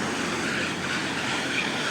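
An electric commuter train rolls past in a bitterly cold city, producing a steady, loud, broadband rumble and rail noise that holds evenly throughout, with no voices.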